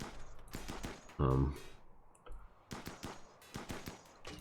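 Assault rifle fire in the colony game Rimworld: a few short, sharp shots ring out amid clicky interface sounds, with one louder, heavier burst in the middle, all fairly quiet.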